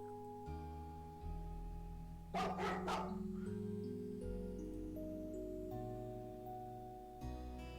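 In the video game Heroine's Quest, a dog gives a quick burst of two or three sharp barks over soft, steady background music, which carries on alone before and after.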